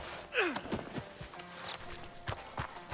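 Horse hooves clip-clop at a slow walk in Red Dead Redemption 2, a handful of soft steps close by, with a sigh or breath early on and light ambient game sound around them.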